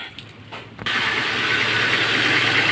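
Suzuki Vitara aircon compressor and condenser fan kicking on after a few quiet ticks, then a steady loud whirring hum close by.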